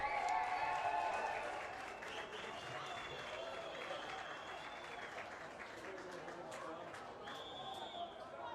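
Crowd at a bronze medal hockey game, Canadian and British cheering sections, keeping up a steady wash of cheering and applause with a commentator talking over it throughout.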